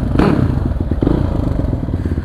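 A Kawasaki KLX 450 motorcycle is started up close, with a short burst of clattering mechanical thumps and scraping as the engine turns over and catches, then a rough, uneven running rumble.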